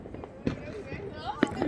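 New Year firecrackers and fireworks burst outdoors at a distance, with sharp pops at scattered intervals and a crackling background, while people talk nearby.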